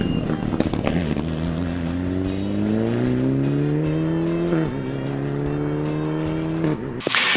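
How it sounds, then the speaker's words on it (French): A Mitsubishi Lancer Evo 10 rally car at the Zuid-Limburg Rally 2019 roars loudly as it accelerates, its engine note rising through the gears with tire noise and gravel spray, close and without talk. "Kevin Tewissen, au volant de la Mitsubishi Lancer Evo 10, vient clôturer le top 10 de cette édition du Zuid-Limburg Rally 2019."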